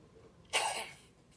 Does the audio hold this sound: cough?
yes